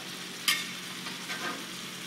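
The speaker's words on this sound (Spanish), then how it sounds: "Mezclamos rapidito para que perfume también todo el tomatito con la anchoa" A spoon stirs tomato sauce with anchovies in a pan, soft sizzling and scraping under a single sharper clink near the start, close and fairly quiet, with no speech.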